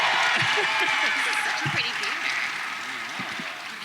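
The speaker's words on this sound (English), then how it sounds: "Can we get a huge round of applause for the cast of Dragon Ball, please?" An audience applauds the Dragon Ball cast at a fan event, a steady broadband wash of clapping that slowly fades while a voice talks over it.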